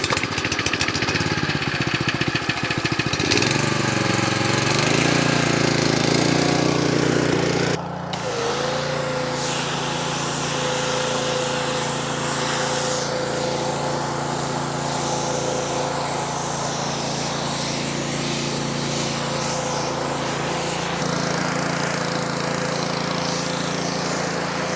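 An engine-driven pressure washer runs steadily while washing a vehicle, a loud continuous motor drone that shifts pitch and eases slightly partway through, then holds an even idle-like roar.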